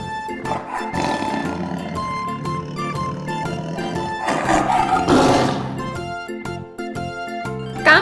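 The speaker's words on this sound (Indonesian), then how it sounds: "Harimau mengaum." A tiger lets out a low, rough roar, building to a louder burst near the middle, heard over a background of rhythmic music.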